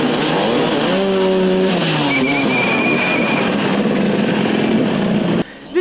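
Motorcycles race in a Russian championship motoball match, engines revving and whining loudly with shifting pitch, ending in a sudden drop and a brief thump.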